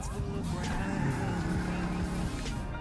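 A car drives in first person in the video game GTA V in VR mode, its engine a loud continuous drone with shifting pitch and some tire noise throughout.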